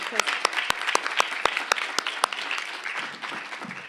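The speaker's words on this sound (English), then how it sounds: "give them a round of applause too" An audience at an awards ceremony breaks into applause for past award winners, with sharp hand claps over a steady roar of clapping and some voices mixed in.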